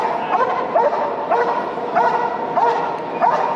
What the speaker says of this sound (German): solange der Täter nicht flüchtet, nicht reagiert, wird er nur gehalten durch Bellen